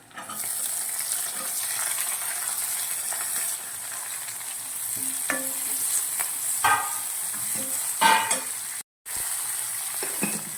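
Onions and curry leaves sauté in a pan with a loud, continuous sizzle and occasional stirring scrapes and clinks, briefly cutting out near the end.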